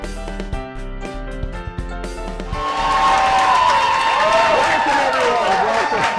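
At the start of USF Housing Live on the University of South Florida campus in Tampa, a band plays a jingle. About halfway through, the studio audience breaks into loud, steady applause and cheering that lasts to the end while the music fades under it.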